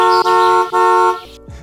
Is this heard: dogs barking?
no